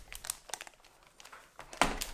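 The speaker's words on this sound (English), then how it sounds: "Starting off with the unboxing." Packaging around a Logitech G213 Prodigy gaming keyboard crinkles and rustles during unboxing, in several short close bursts with a louder crackle near the end and no talking.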